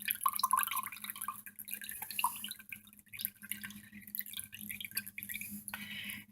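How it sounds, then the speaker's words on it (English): Liquid poured from an opened can of diced tomatoes and chilies, giving faint irregular drips and splashes that continue for several seconds. "I have a can of diced tomatoes and chilies, of which I'm going to pour the liquid out of."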